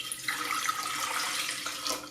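About three cups of water are poured steadily into the inner pot of an Instant Pot Duo Mini pressure cooker, a continuous splashing stream heard up close with no talking.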